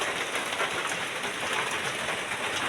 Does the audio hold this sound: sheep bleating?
no